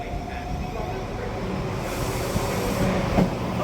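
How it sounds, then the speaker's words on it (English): A Class 171 Turbostar diesel multiple unit rumbling at a station, giving a steady low engine drone with faint rail clatter and station ambience, growing slightly louder toward the end. "Here's my Turbostar, it's 171801."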